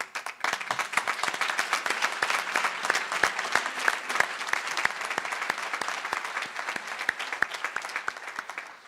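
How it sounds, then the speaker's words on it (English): An audience applauds nursing graduates at an accelerated Bachelor of Science in Nursing pinning ceremony, a dense, sustained wash of many clapping hands lasting several seconds at an even, moderate loudness. "We applaud you for your hard work"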